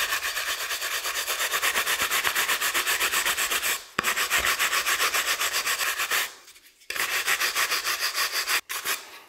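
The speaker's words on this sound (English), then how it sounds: "So, start buffing up like this." A polishing brush buffs wax on a wooden turned bowl, giving a steady, close, continuous rubbing whir with two brief pauses, no talking.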